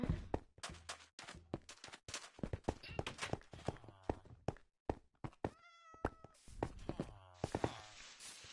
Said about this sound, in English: Get out of here, cute cats!